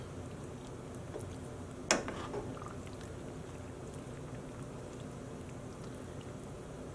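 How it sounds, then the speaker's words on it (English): A twisted hank of yarn is dropped into a pot of water tinted with leftover food colouring, making one soft splash and a brief watery trickle, then a low, steady room hush with nothing else. "I'm just going to sort of plop this in and let this twisted hank slowly sink down"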